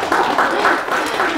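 Lecture audience clapping briefly in a short, fairly loud burst of applause.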